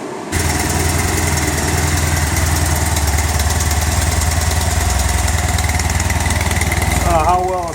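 A 2012 Triumph Thruxton motorcycle on its stock exhaust starts and settles into a steady, even idle close by, a low throbbing burble that holds for several seconds before a brief rev change at the end.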